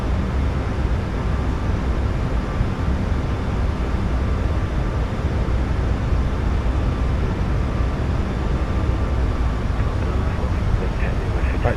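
Boeing 737 MAX 8 engines roar at climb power in a flight simulator, a steady, dense broadband rumble that holds constant throughout, with a voice speaking over it.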